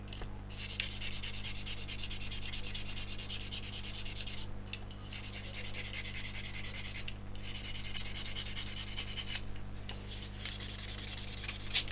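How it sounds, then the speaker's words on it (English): A blue sponge sander rubs over a super glue and talc filled repair on a guitar in close, continuous back-and-forth strokes. The sanding is soft and raspy with a few short pauses, over a low steady hum, and no one speaks. "all the scratches from the orange sponge sander are getting removed now by the blue one"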